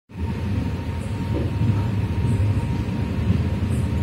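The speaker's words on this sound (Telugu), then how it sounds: "సో స్పీడ్ అయితే అందుకుంటుంది మా ట్రైన్." A Kazipet–Balharshah express picks up speed after leaving the station, and the rumble of the rail cars grows into a steady roar heard from onboard. Faint rhythmic wheel clatter runs beneath it, with no talking.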